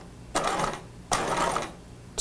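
A sewing machine stitches down a small fabric triangle on a cropped retro jacket in two short runs of even stitching, close and clear, with a brief start of a third.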